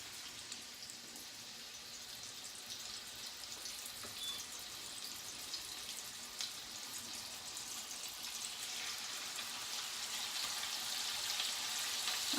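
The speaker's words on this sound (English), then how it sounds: "I'm getting a good fry." Liver and onions fry in a pan with a soft, steady sizzle and crackle, faint and continuous, gradually growing a little louder toward the end.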